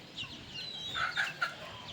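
Chickens cluck and call on a farm at evening time, with several short, fairly quiet calls scattered across the moment amid faint background noise.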